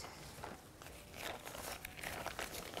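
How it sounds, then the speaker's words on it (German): Plastic film pulled out from under a pistachio milk cake, giving a close, steady crinkling and rustling that grows slightly louder over a few seconds, with no voices. "Jetzt noch die Folie drunter weg."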